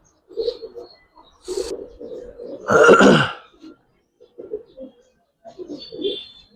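Giribaz pigeons at a pigeon farm: several short, low throaty coos in bursts, close and fairly loud, with a brief rough harsher sound in the middle and some faint higher chirps near the end.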